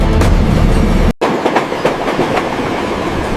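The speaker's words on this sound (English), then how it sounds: "The train gradually accelerates to its maximum design speed of 300 kilometers per hour." A German ICE high-speed train accelerating toward 300 km/h during operational testing, heard as a loud, steady rolling rumble with rhythmic wheel clatter, briefly cut out by a sharp gap before resuming.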